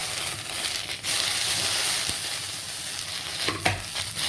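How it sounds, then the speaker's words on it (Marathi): Green chilies roast in a hot kadhai, giving a steady broadband sizzle with a few scraping stirs and small crackles near the end, close and continuous with no talking. "त्याच्यात मिरच्या टाकून घेऊ। पहिले मिरच्या भाजून घ्यायच्या।"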